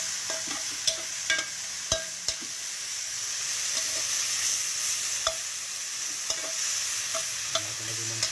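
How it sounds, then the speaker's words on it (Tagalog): Ginataang papaya stirred in a pan with oil, garlic and onion, a spoon knocking and scraping the pan in sharp irregular taps over a steady, soft sizzle, close by. "Pwede na natin siyang haluin."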